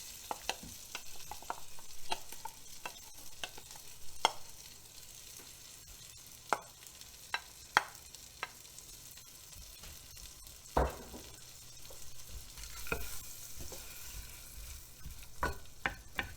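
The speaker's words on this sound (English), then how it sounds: "And we saute that until the onions are translucent" Frozen vegetables, garlic and onions saute in melted butter in a Pampered Chef RockCrok, giving a steady low sizzle with frequent sharp clicks and scrapes from stirring, heard close with no talking.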